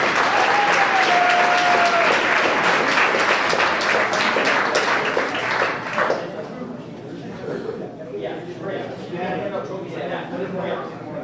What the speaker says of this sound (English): round of applause for all of our cheese balls.